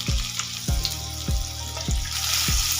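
Salted boiled potatoes frying in oil with turmeric powder, a steady bright sizzle broken by regular low thumps roughly every half second as the pieces are stirred, close up with no talking.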